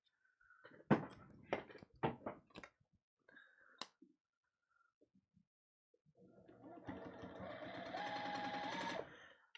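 A sewing machine stitches a quilt block seam with a few sharp clicks and short bursts at first, then after a pause runs a steady, close, even whirring stitch for about three seconds.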